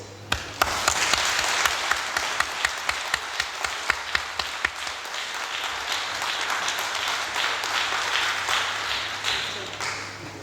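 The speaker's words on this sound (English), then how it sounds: "please join me in another round of applause for brilliant Jamaica Regiment Band" An audience gives steady, dense applause for the Jamaica Regiment Band, with a few crisp claps at the start and a sustained wash of clapping that holds for about ten seconds.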